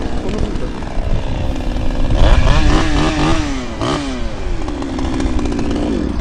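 A cheap APRO petrol chainsaw engine idles roughly, then revs up in several sharp bursts before settling back to a rattling idle, loud and close.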